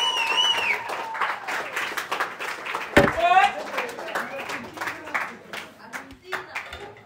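Audience clapping for a guest DJ at a music event session, brisk applause under and between a host's spoken voice and other talking, fairly steady then fading slightly.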